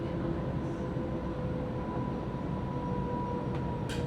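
A Sydney suburban train runs at steady speed with a continuous low rumble and hum, and a faint squeal near the end, heard from the inside with no one talking.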